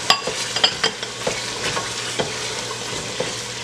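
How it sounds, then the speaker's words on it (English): Smoked sausages and peeled, deveined shrimp are stirred constantly in a sizzling pot, with a steady frying hiss under repeated spoon scrapes and soft knocks against the pot. "While constantly stirring, I'm gonna add some shrimp"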